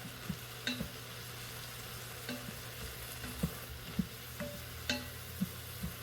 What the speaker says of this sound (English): And let that cook with the onions. And the garlic that's in there.